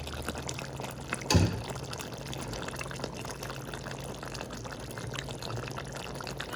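Second coconut milk is poured into a Kerala chicken curry, a quiet liquid pour with a brief splash near the start followed by soft gurgling and bubbling close by.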